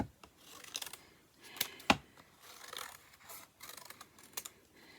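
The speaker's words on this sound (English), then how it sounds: "I like to cut the excess off first." Big scissors snip off the excess paper around a cut-out bee shape in a papercraft session, a series of quiet crisp cuts and rustles with no voice.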